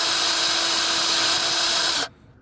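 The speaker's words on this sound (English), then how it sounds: "I'm drilling the bolt out" A power drill with a 17/64 bit boring out a broken exhaust bolt on a 6.0 Powerstroke whines at high speed, loud and steady for about two seconds, then cuts off abruptly into quiet.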